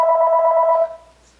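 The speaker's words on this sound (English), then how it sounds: "sorry guys, that's my phone." A phone rings with a single electronic tone burst that cuts off abruptly, loud and close, with no talking over it.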